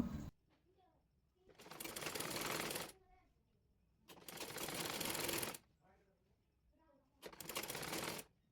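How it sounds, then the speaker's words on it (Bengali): A sewing machine stitches a child's fatua sleeve in three distinct bursts of a couple of seconds each, loud and near, with quiet gaps between runs. "ওইভাবে অপর হাতাটিও সেলাই করে নেব"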